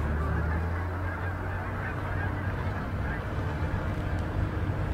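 A large flock of geese flies over a goose hunt, honking continuously as a dense, overlapping din that carries from near to far, with faint voices mixed in.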